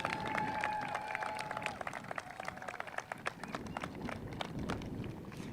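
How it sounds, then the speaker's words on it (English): Applause from a graduation ceremony audience, a steady patter of many hands at moderate distance, with a sustained tone early on and brief voices mixed in. "Let's give them one more round of applause,"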